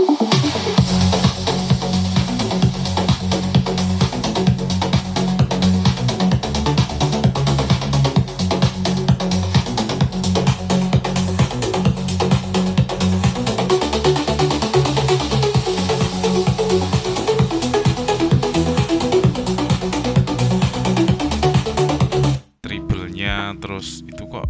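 A Hifuture Music Box portable speaker plays steady, full-range music with a prominent rhythmic bass line, running continuously before cutting out abruptly near the end.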